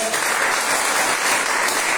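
A church congregation claps together in a dense, steady burst of applause that fills the whole moment, with no speech standing out.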